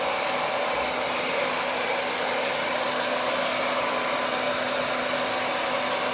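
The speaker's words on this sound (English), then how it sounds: "So I'm really moving this around, wrap drying the hair" A hair dryer roars steadily and loudly up close while hair is wrap dried during a men's long haircut, a continuous even blowing whine with no pauses and no talking.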